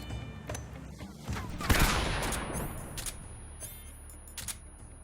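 Gunfire in Metal Gear Solid, one sharp, loud shot near the middle followed by a few fainter clicks and pops against a quiet game background.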